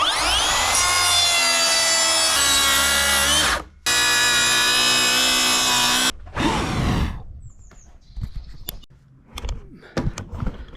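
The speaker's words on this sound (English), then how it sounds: "It's Makita. It's a plunge saw." A Makita plunge saw running along a rail cuts through wood with a loud, high whine. It stops briefly, cuts a second time, then spins down, and light clatter from handling the workpiece follows.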